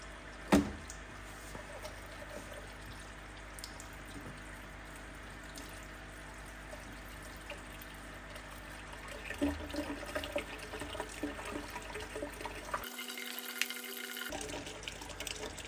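Water trickles and flows steadily along a hydroponic NFT channel rail in a garage setup growing bok choy, a faint continuous running sound with a brief louder splash near the start.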